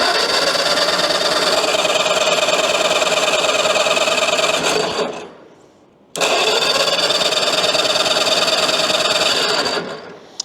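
A 1952 Caterpillar D4 dozer's engine cranks hard and steadily in two long runs with a brief pause between, loud and close, a dense mechanical churn without catching.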